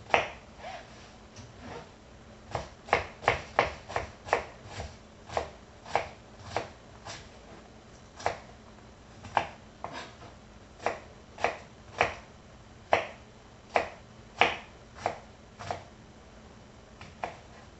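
A kitchen knife dices onions on a cutting board for Halloween stuffed peppers, producing quiet, close, sharp chopping taps that come in quick irregular clusters of strokes, steady throughout with no voices.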